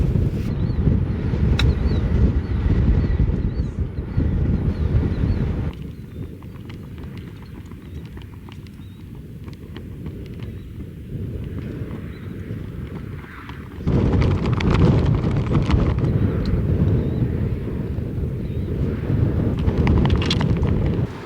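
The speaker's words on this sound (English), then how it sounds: "This wind is making it so hard to do anything." Strong 35 mph wind buffets the microphone on a golf course, a loud continuous low roar that eases for a while in the middle and then surges back.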